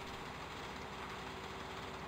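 A Kloss 826 tractor's engine in a farming video game runs at a steady idle, a continuous low rumble with an even hum and no breaks, close and fairly quiet.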